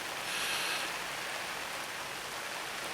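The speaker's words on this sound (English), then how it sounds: "It's been raining pretty much all night," Steady overnight rain falling outdoors at a lake, a constant dense hiss of drops with no breaks and no voices.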